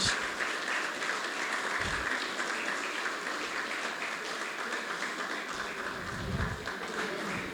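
Steady applause from a crowd at a design community mixer fills the hall as the convener walks on stage, sustained dense clapping at even loudness throughout.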